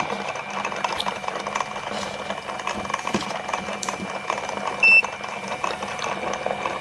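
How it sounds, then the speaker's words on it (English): A rotor carrying heavy permanent magnets spins under three-phase power, giving a steady mechanical whirring hum with a faint high whine and small rattles, close and continuous throughout. "So now when we turn on the power here, the rotor starts spinning,"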